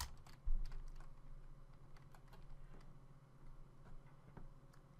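Quick light keystrokes on a computer keyboard while typing a Minecraft server command, a faint run of soft clicks in an uneven rhythm over a steady low hum.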